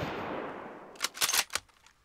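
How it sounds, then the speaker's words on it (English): Gunshots in the zombie survival game Project Zomboid: after a steady hiss fades, four or five loud, close shots crack out in a quick uneven cluster, each ringing briefly, with no speech. "the sound of gunshots is not pleasant. It's not as pleasant as it seems in the game."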